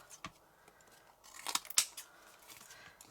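Scissors snipping patterned paper for a handmade card, several close crisp cuts with light paper rustling, quiet overall.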